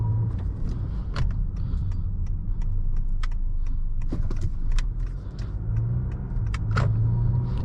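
A 2020 Honda Accord EX-L with the 2.0-liter turbo engine pulling away and accelerating, its low steady engine rumble heard from inside the cabin with small clicks and rattles, and no talking.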